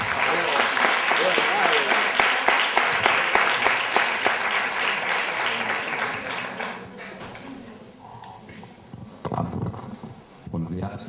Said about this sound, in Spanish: Un fuerte aplauso para Diego Lobo.